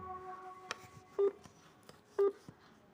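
When a phone call is cut off, two short electronic line tones beep about a second apart, faint over a low background hum with small clicks.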